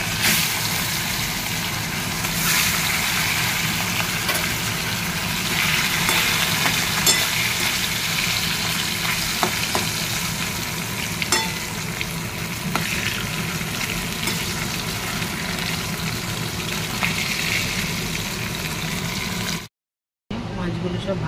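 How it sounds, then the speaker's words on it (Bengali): Surmai fish frying in oil, a loud, close, continuous sizzle with stirring and occasional crackles, cut by a brief silence just before the end. "মাছগুলো সব ভাজা হয়ে গেছে"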